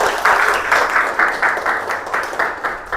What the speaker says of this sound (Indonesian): tepuk tangan dulu untuk Eka